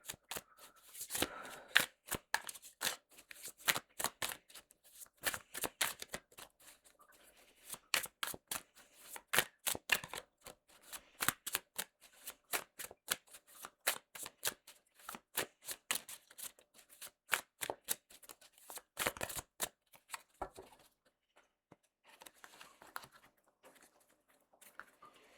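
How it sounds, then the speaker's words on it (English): A new, stiff deck of playing cards is riffle-shuffled again and again, sharp rapid bursts of fluttering snaps close up, with brief pauses between shuffles and no talk. "New deck, very stiff, hard to shuffle."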